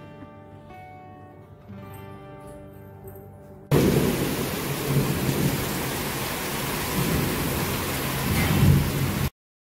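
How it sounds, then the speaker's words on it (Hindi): Evening rain returns with thunder, a loud, continuous downpour hiss with deep rumbling, preceded by a few seconds of soft music before the storm noise cuts in abruptly and then stops sharply. "यहाँ पे फिर से हो गई है बारिश स्टार्ट, और शाम के टाइम में फिर से बारिश हो रहा है"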